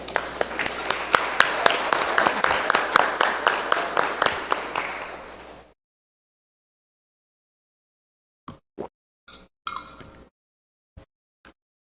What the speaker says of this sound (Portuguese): Uma salva de palmas para isso aí também